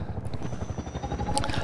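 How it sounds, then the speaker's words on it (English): A helicopter's rotor chops steadily and fairly close in a dark cave area of Half-Life 2 Episode 2, a low pulsing thrum that continues unbroken. "when I heard the helicopter here, I was so confused because I thought I was indoors in a cave"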